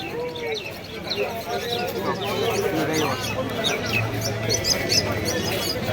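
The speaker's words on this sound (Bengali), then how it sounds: "ব্যাগ থেকে সব পায়রা বার করছে" Pigeons coo and chirp among a busy crowd at the Birnagar pigeon market, their calls mixed with steady murmuring voices and scattered squawks close by.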